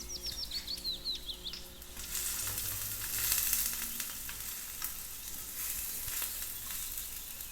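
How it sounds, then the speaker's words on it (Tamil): Onions sizzle in oil in a miniature kadai on a stove, a steady close crackling hiss that rises a little midway, with faint bird chirps at the start. "அடுப்பில் ஒரு கடாய் வச்சாச்சு. அதில் எண்ணெய் சேர்த்துக்கலாம். வெங்காயம் சேர்த்துக்கலாம். நல்லா வதக்கிக்கலாம்."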